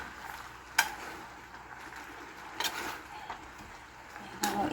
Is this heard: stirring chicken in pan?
yes